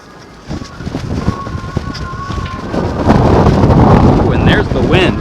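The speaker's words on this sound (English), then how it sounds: "Ooh, and there's the wind." Wind buffets a camera microphone during an outdoor Mother's Day walk in Grand Rapids, starting as light gusty rumbling and growing into a loud, steady roar in the second half.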